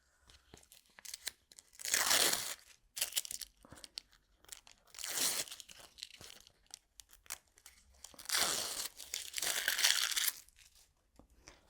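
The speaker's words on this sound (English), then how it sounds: "So I'm just going to break the back of my Bondaweb." Paper backing of Bondaweb fusible web being broken and peeled away, for a fabric postcard on pelmet Vilene: three close, bursts of crinkly tearing and crackling, each lasting about one to two seconds, separated by quiet pauses, with no talking.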